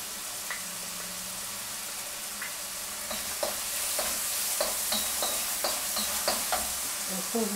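Courgettes sauté in a pan with a steady crackling sizzle, stirred at regular intervals that make soft scraping clacks. The sound is close and moderately quiet.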